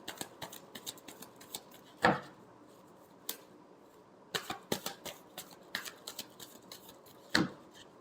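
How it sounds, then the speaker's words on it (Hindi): Tarot cards shuffled by hand in a quiet room: close, soft riffling and sliding in uneven bursts, with a few sharper snaps and card taps standing out, no talk. "last shuffle"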